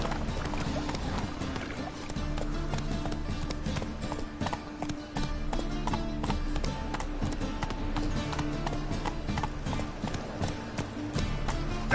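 A horse gallops in The Witcher 3 video game with a fast, steady clip-clop of hooves, loud and close, mixed with dense in-game background sound.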